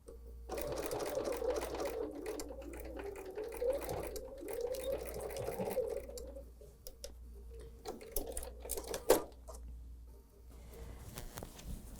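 A sewing machine stitches fabric for a quilted morning star hot pad, running in a steady close whir for most of the stretch, then slowing near the end with a few clicks and a brief thump.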